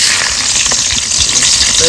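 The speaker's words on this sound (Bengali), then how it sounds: "বাবা বড় একটা কাতলা মাছের মাথা এনেছিল, সেটা এবার ভেজে নেব।" Catla fish head frying in hot oil in a wok gives a steady, loud broadband sizzle with some stirring noise, running unbroken through the whole moment.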